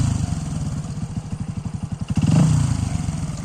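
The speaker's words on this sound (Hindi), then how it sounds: "पहले देखते हैं विदाउट डीवी किलर कैसा है इसका साउंड।" A motorcycle with an Akrapovic slip-on exhaust, without its dB killer, idles with a rapid, throaty pulse, then briefly revs up louder before settling back, heard up close.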